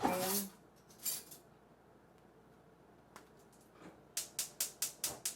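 A metal spoon clinks and scrapes against a jar of hair grease, with a few faint taps and then a quick series of six sharp clicks at close range.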